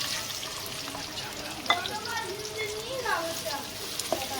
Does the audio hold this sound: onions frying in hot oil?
yes